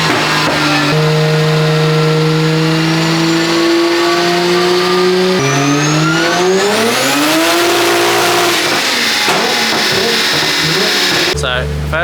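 A Nissan S15 drift car engine revs hard and loud on a track, pitch climbing and dropping through gear changes, with tire noise and a voice faintly underneath.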